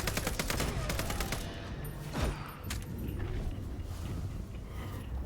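Gunfire from a sniper in Vampire: The Masquerade - Bloodlines 2, with a rapid volley of sharp cracks in the opening seconds and then scattered single shots over a steady rumbling game ambience.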